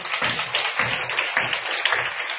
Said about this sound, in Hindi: आइए यीशु के जलाल के लिए जोरदार ताली।